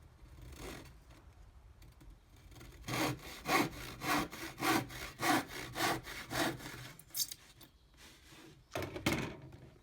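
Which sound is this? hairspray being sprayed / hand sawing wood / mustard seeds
hand sawing wood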